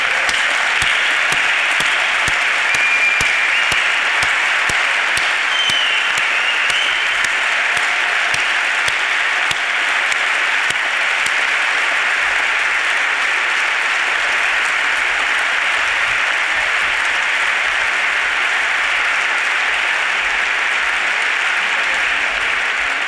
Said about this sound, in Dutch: jullie verdienen een heel groot applaus